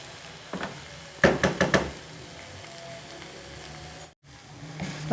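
Vegetables sizzling in a hot pan for chicken chow mein, a soft steady frying hiss with a quick run of knocking stirs against the pan near the start.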